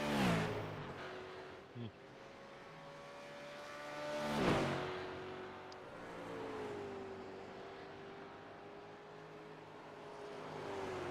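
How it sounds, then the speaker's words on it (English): A V8 Supercars race car engine drones in a racing simulator game, its pitch rising and falling as the car revs, with a louder swell midway. The engine stays moderately distant and steady, with a faint background hum. "This car really sounds gorgeous, James."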